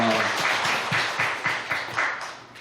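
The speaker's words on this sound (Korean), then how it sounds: "우리 하나님 앞에 영광의 박수 올리겠습니다" A church congregation at a Korean worship service claps together in a steady, rhythmic beat, about four claps per second, filling the room for a couple of seconds.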